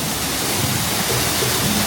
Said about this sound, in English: Here we have a waterfall.